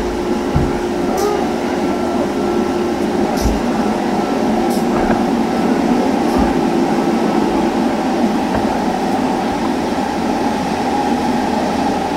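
An Acela high-speed train pulls away in the Train Simulator 2016 Northeast Corridor, a steady rumbling electric drone with periodic clunks and faint high hisses as it gathers speed.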